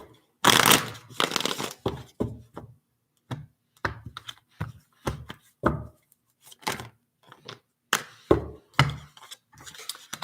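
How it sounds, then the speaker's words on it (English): Tarot cards shuffled in short, crisp bursts of riffling and tapping, close and fairly quiet, repeating irregularly with brief pauses between each shuffle. "They said one more shuffle."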